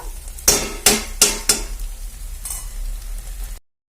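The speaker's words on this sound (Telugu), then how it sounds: "మధ్య మధ్యలో కలుపుకుంటూ ఉడికించుకోవాలి ఇదైతే వేపుకోవాలన్నమాట" Ponnaganti greens frying in oil into a dry curry are stirred with a spoon against the pan, giving four sharp scraping strokes close up, then a softer fifth, over a steady low sizzle.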